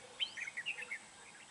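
Red-whiskered bulbul singing in a short burst of bright, quick warbled chirps over a faint steady hiss, fairly quiet and somewhat distant, with no voices.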